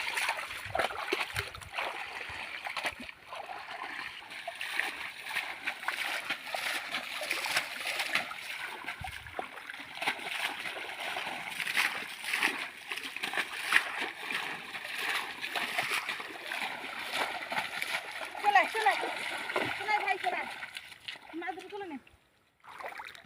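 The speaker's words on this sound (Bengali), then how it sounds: "জালটা একটুখানি ধুয়ে নি ধুয়ে নি" A fishing net is rinsed in a Sundarbans river, giving continuous close splashing and sloshing water with bursts of agitation, while people talk nearby throughout.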